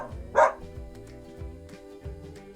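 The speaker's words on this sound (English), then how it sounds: "Do you know what a dog sounds like?" A dog barks a few times in a short burst, with softer yips and whimpers around it, fairly close, with no talking over it.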